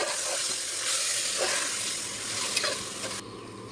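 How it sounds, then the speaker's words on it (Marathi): Marinated prawns sautéing in spices for a prawn rice dish, a loud, bright, continuous sizzle and hiss close by, with faint scraping of stirring through it. "आता आपण ती मॅरिनेट केलेली कोळंबी त्याच्यात टाकून घेते मी आणि तेही व्यवस्थित परतून घेते"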